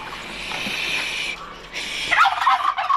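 A steady whistle imitating a hen turkey sounds first, then the farm turkeys answer with a loud burst of rapid, rattling gobbles close by.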